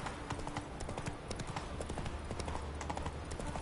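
Roach, Geralt's horse in The Witcher 3: Wild Hunt, gallops at full speed in the game, rapid rhythmic hoofbeats running steadily throughout at moderate loudness, with faint background game sounds.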